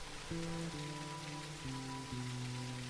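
Rain in the video game Surroundead makes a steady, even hiss across the scene. A low sustained tone shifts down in pitch in several steps beneath it.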